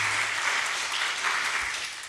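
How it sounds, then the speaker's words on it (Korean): A church congregation applauds during a service, a steady dense roar of clapping that holds at even loudness and fades slightly at the end. "우리 하나님께 영광의 박수를 올려드리겠습니다"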